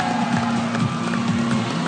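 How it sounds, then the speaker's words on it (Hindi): Studio audience on a Pakistani TV talk show applauding and cheering as a guest is welcomed, a dense steady roar of clapping with crowd voices and a constant tonal hum underneath. "बहुत सारी तालियां"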